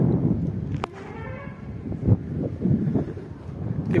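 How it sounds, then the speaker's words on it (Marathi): Strong wind buffets the microphone on a hillside trek to the Kanheri Caves, a loud continuous rumble with a few brief gusts and faint background sounds. "सोबत हवा बघा."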